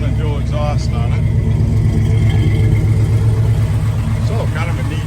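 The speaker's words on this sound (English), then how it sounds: "Got pretty good sounding dual exhaust on it." A 1985 Chevrolet Blazer with headers and a dual exhaust rumbles steadily at close range, its deep low-frequency throb holding loud and even throughout, with no clear rev peaks.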